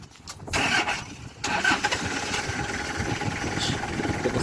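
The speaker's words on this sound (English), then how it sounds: "I want you to start your vehicle." A car engine is cranked and starts, catching after a brief whir and settling into a steady idle, close and fairly loud, with no talking.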